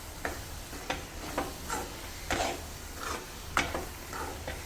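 Jaggery and grated coconut frying in a pan over low flame while being stirred for modak filling, giving soft repeated scraping strokes every half second or so over a faint sizzle, fairly quiet and close, with no talk.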